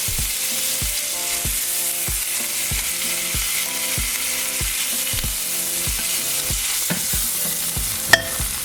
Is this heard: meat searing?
yes